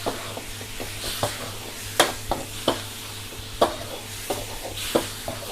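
Soup stock splashes into a hot, sizzling pan of basil stir-fry with liver, a steady fry hiss broken by sharp spatula scrapes and clinks as the mixture is stirred, close and fairly loud.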